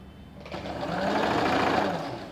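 Sewing machine stitching the belt onto straight-cut ladies' pants, a close, brief run of rapid mechanical whirring that ramps up quickly and holds at speed.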